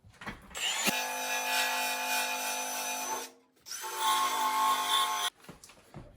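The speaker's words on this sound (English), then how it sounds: "we're going to take a paint stripper wheel to it and strip off the paint around here" A paint stripper wheel on a power tool grinds paint off a patch area of a Ford F1 truck during rust repair, a steady loud whirring abrasion in two long passes with a brief pause between.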